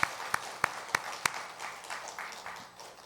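Congregation applause during a Sunday church service, welcoming the pastor's wife who recently had a baby: a few sharp isolated claps at the start, then steady soft clapping from a room of worshippers, fading slightly toward the end, no voices.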